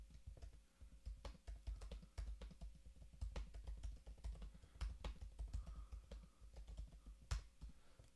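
Someone types dialogue on a computer keyboard, a quiet, close, steady patter of key clicks in short bursts with brief pauses and one louder tap near the end.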